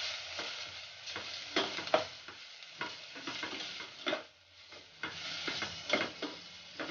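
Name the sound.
spice paste frying with bay leaves and lime leaves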